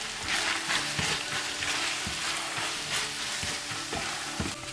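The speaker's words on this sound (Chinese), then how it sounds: "把面放入锅中，加入番茄酱、生抽，翻炒均匀。" Noodles with tomato paste and soy sauce are stir-fried in a wok, giving a steady loud sizzle with faint scraping and stirring knocks throughout.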